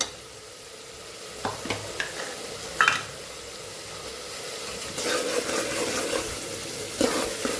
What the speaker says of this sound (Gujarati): મસાલાને સરસ આપણે સાતળી લેવાનો છે તેલ છૂટું પડે ત્યાં સુધી